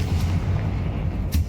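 A Confringo fire-blast spell in Hogwarts Legacy booms with a deep rumbling impact, low thudding bursts repeating over a second and a half with a brief bright crackle near the end.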